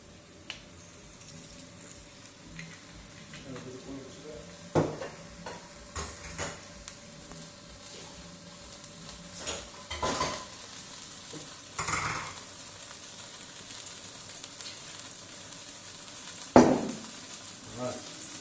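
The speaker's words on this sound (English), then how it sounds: "add a little bit of oil, and then we're going to put our spring onion in there" Spring onion frying in hot oil in a pan for a beef noodle stir-fry, with a steady sizzle, occasional scraping stirs and utensil clinks against the pan.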